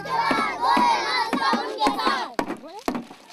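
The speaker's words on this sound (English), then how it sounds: "beating their drums, making a noise, chanting their slogans." A crowd of children in an Indian village chants slogans and shouts together while drums thump steadily underneath, loud and close.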